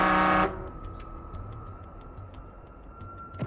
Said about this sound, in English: you can also honk your horn